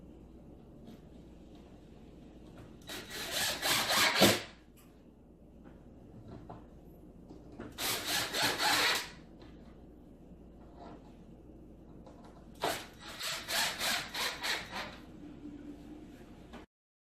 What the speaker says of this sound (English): So we just want to go ahead and line up your screw with those holes